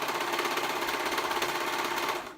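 A serger stitches a hoodie seam, a fast steady mechanical chatter running close and continuously before winding down at the end.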